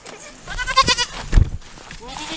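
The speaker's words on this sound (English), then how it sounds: "Hunter, the goats are eating your bike" Goats on a farm bleat a few times while chewing on a bike seat, a wavering cry close by, mixed with people talking and some handling noise.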